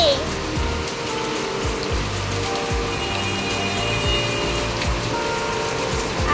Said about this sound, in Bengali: দেখো গাইস, কতটা বৃষ্টি পড়ছে।